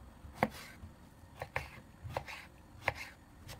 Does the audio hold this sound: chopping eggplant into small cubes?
yes